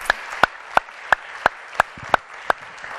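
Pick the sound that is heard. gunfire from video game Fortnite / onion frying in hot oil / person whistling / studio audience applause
studio audience applause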